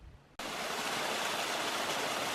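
After a brief quiet moment, the water of the Susie Lake outlet in the Desolation Wilderness comes in as a steady, close rushing hiss that stays constant to the end.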